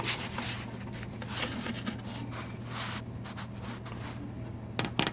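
A zip tie threaded through the holes of a stick-on clamp during an air conditioner repair, soft close rubbing and ratcheting scrapes over a low steady hum, ending in a few sharp clicks.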